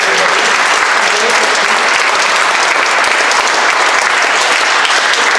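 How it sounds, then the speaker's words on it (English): Loud, sustained applause from a bar audience at the Belle Vue Bar during a live football radio show, steady dense clapping filling the whole stretch with crowd noise mixed in. "give yourselves a round of applause"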